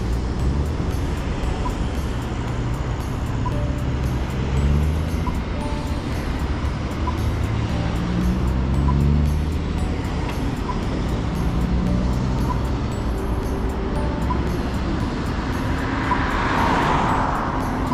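Road traffic passes a bike trail crossing in a steady, loud rush of car and engine noise, with one vehicle swelling nearer toward the end.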